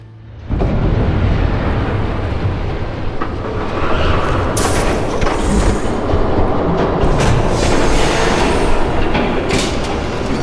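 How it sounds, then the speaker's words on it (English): Train rushing past in a Batman video game, a loud continuous rumbling roar that holds steady for about ten seconds, with rattling metallic clatter layered on top. "There's a train coming. Take cover."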